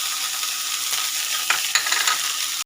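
Chopped fenugreek and peas sizzle steadily in a wok while a utensil stirs them, with a few sharp scraping strokes standing out above the constant frying hiss near the middle.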